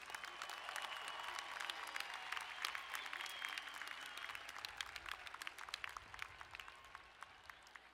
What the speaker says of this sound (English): one more round of applause for all of our master's students.